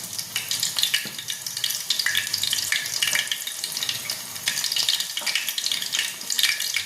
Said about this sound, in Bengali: এক একটা প্রন এরকম ব্যাটারে ডুবিয়ে একটু ফ্রাই করে নেওয়া, একটু সিমে ফ্রাই করবো